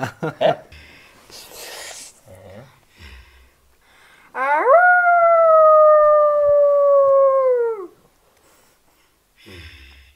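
During a theatre studio play, a voice imitates a wolf howl: one long, steady, drawn-out tone that rises, holds for a few seconds and then falls off, following some brief speech and breathing sounds.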